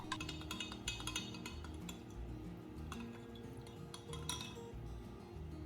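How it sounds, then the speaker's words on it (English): A spoon stirs a cornstarch and water mixture in a cup, with faint repeated clinks and scrapes against the side, quiet and close, in an irregular rhythm with no voices. "Stir slowly and thoroughly until the mixture is completely smooth with no lumps"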